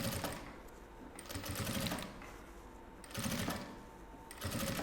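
Sewing machine stitching piping onto fabric for a small bunny-shaped vanity case, loud close whirring runs in several bursts with brief slower pauses between.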